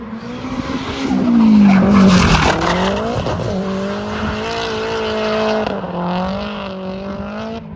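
Nissan Silvia drifting on a track, heard from trackside: a rising, wavering engine note mixed with long loud tire screeching, peaking early then holding steady as the car slides past.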